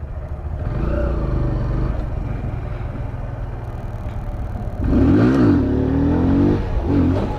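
A motorcycle engine revs hard during a wheelie, heard close and loud as a sustained drone that surges into a higher, rising and falling roar partway through.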